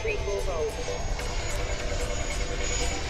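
A Freewing Eurofighter v3 RC model jet flying past during a touch-and-go, a continuous whooshing turbine-like roar that stays loud and steady throughout.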